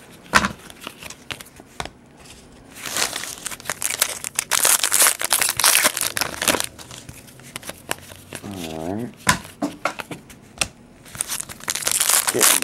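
Football card packs from 2008 SP Authentics and 2006 Limited boxes being torn open, foil wrappers crinkling and tearing in loud, close bursts with brief pauses between handfuls.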